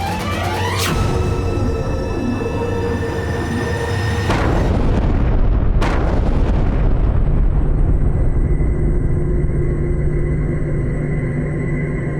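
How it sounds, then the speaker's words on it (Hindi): A loud explosion in a historical war drama about Maharana Pratap bursts with a sharp crack, then a second blast follows, leaving a heavy, sustained rumble and roar that fills the rest of the scene. "इसका अर्थ है कि हम इस विस्फोट में मरने वाले थे।"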